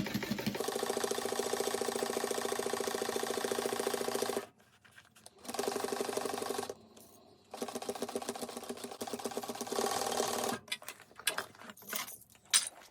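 Sewing machine stitching a quarter-inch seam on a fabric bag, running in fast rattling bursts broken by short pauses and a few stop-start taps near the end.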